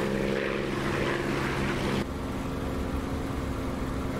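Spitfire Mk IX propeller engine in DCS World, a loud steady droning roar with a throbbing hum that abruptly drops to a lower, softer tone as the throttle changes.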